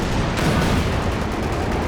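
A dense, rumbling barrage of artillery fire in a Company of Heroes 2 2v2 battle, a continuous loud low roar of impacts and blasts with no pauses.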